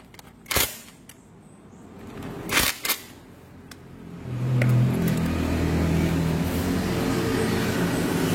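A motorcycle engine starts up for a test run after a starter gear repair in a workshop, preceded by a few sharp clanks, then settling into a steady, close idle that holds to the end.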